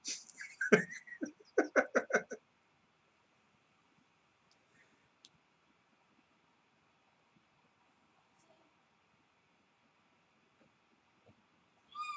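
A young boy makes a short run of cat-like meows and squeaks, close to the mic, clustered in the first couple of seconds, followed by near silence and a faint voice at the very end; a voice imitating a cat.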